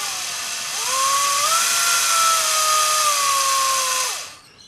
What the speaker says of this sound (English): make sure that only the smooth part of the drill bit is sticking out, and I just stick the end of the wire in the chuck.